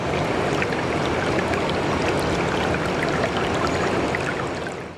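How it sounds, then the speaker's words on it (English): Mountain stream in the Pyrenees rushing steadily, a dense broadband wash of flowing water with bright splashy detail, close and continuous without pause. "I recorded some audio of a mountain stream."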